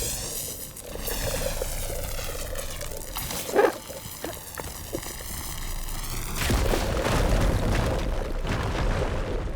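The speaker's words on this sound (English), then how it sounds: "Should be able to blow up that fire gleam." In Horizon Forbidden West, a fire gleam deposit is blown up amid continuous game ambience, with a short sharp burst standing out before a louder, fuller wash of sound swells and holds.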